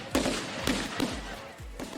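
Firecrackers stuffed inside New Year effigies burst as the figures burn at midnight, giving four sharp, loud cracks spaced roughly half a second apart over a steady crackling background.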